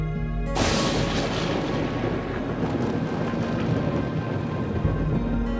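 Thunder in the video game Deadly Premonition 2 sets off a sudden loud crash, then rolls on as a long, dense rumble with rain-like noise that stays steady and fills the whole clip.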